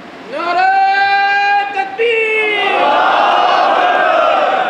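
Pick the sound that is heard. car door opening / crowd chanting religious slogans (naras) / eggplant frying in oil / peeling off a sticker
crowd chanting religious slogans (naras)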